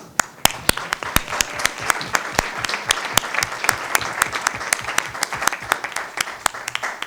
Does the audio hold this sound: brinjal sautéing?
no